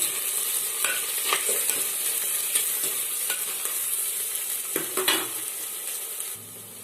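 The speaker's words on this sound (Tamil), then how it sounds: "வெங்காயம் சேர்த்துட்டு கொஞ்ச நேரம் நல்லா வதக்கிக்கலாம்" Onions sizzle in oil as they are sautéed in a pan for a village-style fish curry, with repeated scraping stirs and light clatter over a constant close frying hiss, no voices present.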